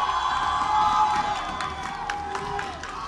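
A crowd cheers at the inaugural Washington Justice homestand, a continuous wash of voices with shrill whistles and whoops rising and falling for several seconds.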